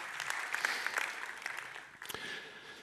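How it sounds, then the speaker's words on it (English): Conference audience applauding a speaker at an electric vehicle event, a brief burst of many hands clapping in a hall that fades after about two seconds, fairly faint and distant. "Give him a loud round of applause."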